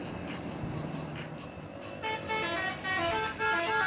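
Toy double-decker bus sounding a close electronic horn in short repeated toots over a dense rattling background, growing louder in the second half.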